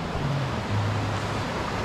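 Small mountain stream on a Pyrenees lake hike, swollen by avalanche debris, giving a dense, continuous rushing flow close by with no pauses.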